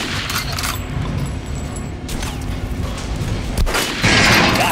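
Guns firing at armoured enemies in the shooter game Metro: Last Light, heard as dense bursts of shots and booms that continue without a break and swell near the end, with no speech.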